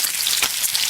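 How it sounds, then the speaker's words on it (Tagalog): Tilapia deep-frying in a kawa full of oil, a dense continuous crackling sizzle, close and steady for under a second. "At naglagay ng maraming mantika. Mukhang i-deep fry."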